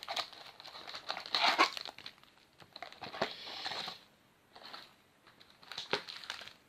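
Crinkly plastic rustling as a Yu-Gi-Oh! booster pack wrapper is handled and torn open, coming in soft bursts of crackling with brief pauses between, close and quiet, no voices.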